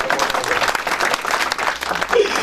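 Wedding guests applaud in a continuous, loud clatter of many hands clapping that fills the whole clip, with some voices mixed into the crowd.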